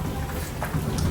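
Rain falling steadily in a Punjabi village, a close, continuous patter and hiss of drops striking surfaces, with a faint low rumble beneath and no speech.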